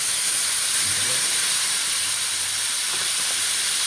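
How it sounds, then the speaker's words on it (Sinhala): Fish sizzles hard in hot coconut oil, a loud, even hiss that holds steady throughout, with no talk. "මේ ගඳුරු තෙලේ බදින්නවා"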